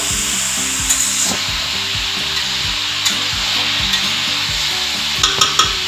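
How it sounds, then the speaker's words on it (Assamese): Vegetables tossed in hot oil in a pan for a simple mixed-vegetable dish, a steady sizzle with rhythmic scraping and knocking of the stirring utensil throughout, close and without talk. "যদি চব্জিখিনি অইলৰ লগত ভালকৈ মিক্স নহয় তেতিয়া টেষ্টটো ভালকৈ নাহিব"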